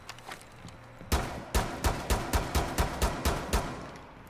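A rapid volley of sharp gunshots in Tom Clancy's Rainbow Six Siege, about a dozen evenly spaced bangs after a few faint earlier pops, loud and punchy.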